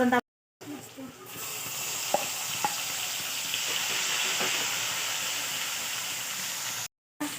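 A coarse paste of ground green chili and garlic fries in a pan, a continuous close sizzle with a few light stirring taps, set between brief silent gaps at the start and end.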